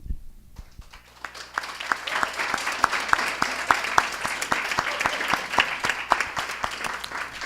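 A panel audience applauding steadily, the clapping building quickly and holding at a lively, even rhythm.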